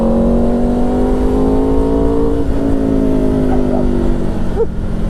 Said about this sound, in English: The exhaust, the Acro exhaust, is actually not too bad.